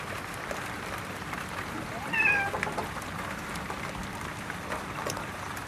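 An indoor cat on a sailboat gives a short meow or two, mid-clip, over a steady wash of rain and background noise.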